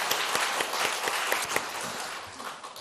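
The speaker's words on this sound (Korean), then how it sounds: "우리 한번 크게 박수 한번 보내드릴까요?" A church congregation claps and applauds steadily, a full room of hands fading slightly toward the end.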